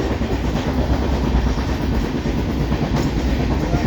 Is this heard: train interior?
yes